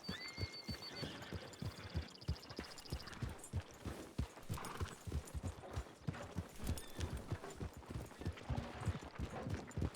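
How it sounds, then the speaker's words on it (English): Several horses clip-clop along, a fast busy patter of hoof strikes close by, with a brief high whistle-like tone near the start and faint other noise under it. "There's more than one horse here."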